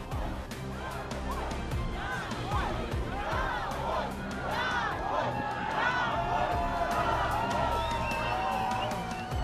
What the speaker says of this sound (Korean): 200명이 넘는 시민들이 시위에 참가해서 한 목소리를 냈습니다.